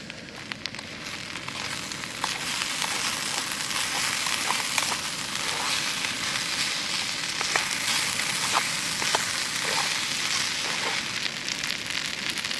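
Veggie hashbrowns with Spam fry in a pan at a camp cooking setup, giving a steady, close sizzle with small crackles and pops throughout, no talking.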